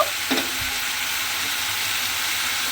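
Ash gourd with salt fries in a pan with a steady, even sizzle and a couple of faint stirring knocks near the start, close up and without talk.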